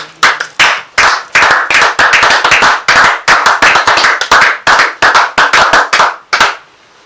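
Church congregation applauding in a burst of loud, fast, dense hand clapping that runs steadily for about seven seconds before fading out at the end.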